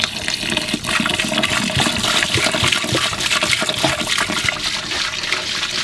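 Saltwater gushes steadily into a new, empty aquarium tank, a loud, continuous splashing rush of pouring water that lasts throughout with no talking.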